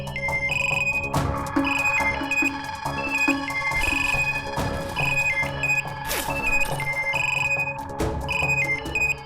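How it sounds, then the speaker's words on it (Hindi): A mobile phone rings loudly in a household scene of a family TV show, a repeating electronic ringtone melody of bright beeping tones that keeps going for the whole stretch, with scattered thumps and clatter around it. "कहीं बेल बज रही होगी, देखो जरा।"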